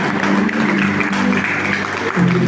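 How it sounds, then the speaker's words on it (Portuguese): A church congregation at a Sunday service claps together in a dense, steady wash of applause lasting throughout, with a sustained tone and voices blended underneath. "Mas aplauda com alegria."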